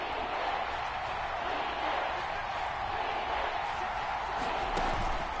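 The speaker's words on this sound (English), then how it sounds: "the crowd getting into it as we come up on a big 3rd down" A football stadium crowd at a Bengals vs Chiefs NFL game roars in a steady, dense wash of noise before a third down, with voices faintly underneath.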